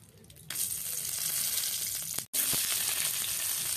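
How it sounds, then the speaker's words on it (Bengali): Dried red chillies and a bay leaf hit hot oil and burst into a loud, bright, steady sizzle, with one brief break near the end. "তেজপাতা দেওয়ার সঙ্গে সঙ্গে দুটো শুকনো লঙ্কা ছিঁড়ে এই তেলের মধ্যে দেব।"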